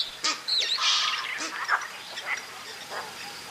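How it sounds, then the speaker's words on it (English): Go-away-birds give repeated harsh, nasal "gwae" calls close by near a water's edge, a few loud drawn-out cries followed by softer scattered calls. "Their distinctive calls of gwae, gwae can always be heard here."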